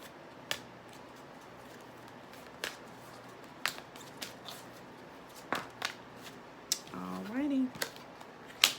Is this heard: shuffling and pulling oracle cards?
yes